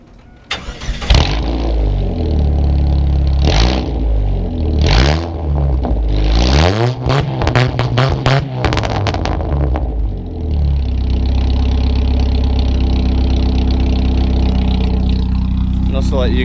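Chevy S10 with a full exhaust and a drilled-out catalytic converter, warmed up, roaring loud and close as the engine is revved up and down repeatedly, then settles into a steady, rumbling high idle.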